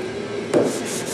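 Hand sanding gives a brief, steady rubbing scrape with one slightly louder stroke partway through, close by and on its own.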